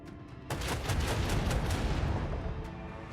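Ship weapons firing during space combat in Warhammer 40,000: Rogue Trader: after a short quiet start, a dense, loud, continuous barrage of booming shots and impacts rolls on without pause.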